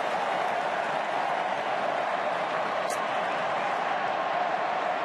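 Stadium crowd at an AFL football match between Fremantle and Geelong applauding and roaring, a steady wash of distant clapping and noise under a commentator's voice.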